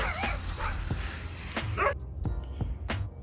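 Several dogs bark outside in a garden, with sharp, separate barks and yips spread through the clip and sounding at moderate distance.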